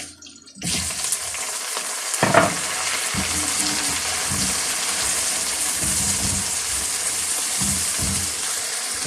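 Garlic, onion and tomato sizzle and fry in a hot pan, a steady crackling hiss throughout with occasional stirring scrapes and clinks close by.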